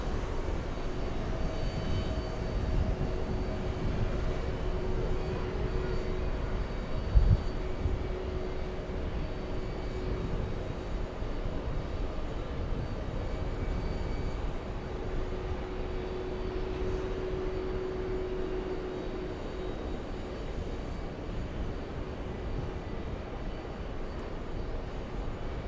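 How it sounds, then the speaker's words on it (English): A CRJ regional jet taxis out at Los Angeles airport, its engines giving a steady, continuous roar with a faint tonal whine, heard from a distance with no voices. "Let's go for that little CRJ taxiing out of LA Flights Way."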